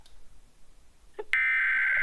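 An Emergency Alert System attention tone: after a brief faint blip, a loud, steady electronic tone switches on abruptly and holds unbroken to the end, with no talking.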